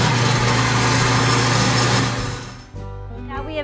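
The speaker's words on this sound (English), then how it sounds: "Now we have ground our coffee beans to a coarse grind" A coffee grinder runs loud and steady, grinding coffee beans to a coarse grind, then winds down and stops near the end.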